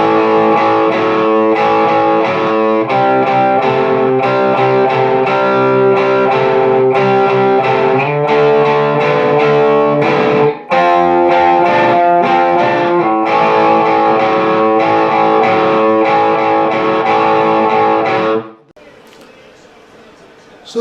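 Distorted electric guitar plays a solo rhythm, with steady driving chords running for about eighteen seconds, loud and close, then cutting off abruptly into faint noise.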